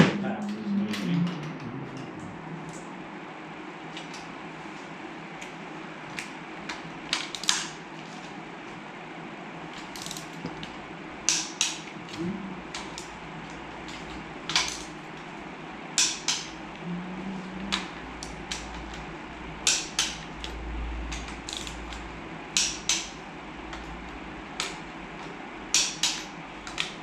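Torque wrench tightening cylinder head bolts on a rebuilt 1965 Plymouth Fury 318 V8, giving sharp ratchet clicks in irregular bursts over a steady low background hum, close and fairly loud.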